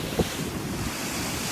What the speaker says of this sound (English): I got out front of the waves.